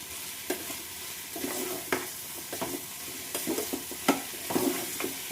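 Ginger and garlic fry in a pan, giving a steady low sizzle broken by repeated stirring scrapes and clinks at a close, moderate level, with no voices.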